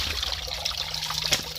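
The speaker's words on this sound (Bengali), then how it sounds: "হ্যাঁ জলটা পড়ে দিচ্ছে" Water trickling and splashing from a pipe outdoors, a steady close dribble with a brief louder splash near the end.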